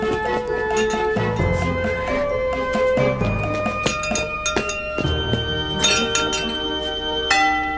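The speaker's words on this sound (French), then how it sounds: "Que tu donnes un coup sur la cloche." A bell is struck to buzz in an answer during a quiz game, ringing out with bright metallic tones and lingering decay amid a few clinks and a low background hum.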